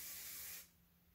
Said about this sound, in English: I will take the curl spray